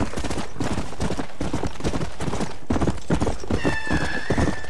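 Galloping hooves clip-clop steadily for several seconds in the Red Dead Redemption: Undead Nightmare game, joined near the end by a loud, high horse whinny.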